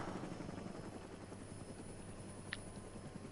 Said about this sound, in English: there's a helicopter there if you need it